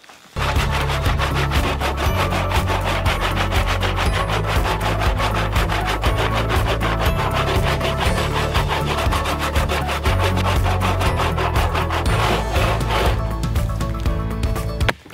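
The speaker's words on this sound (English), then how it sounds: "Under 3 inches, a bow saw if you're bucking up firewood." Hand saw cutting through downed oak limbs for firewood, a steady loud back-and-forth rasping that runs continuously without pause, close up and alone with no voices.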